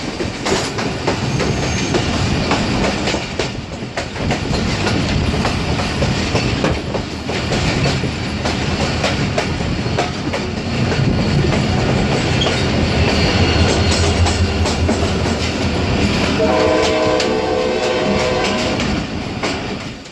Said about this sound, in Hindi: तो हमारी ट्रेन तो खानपुर रेलवे स्टेशन पर अराइव कर रही है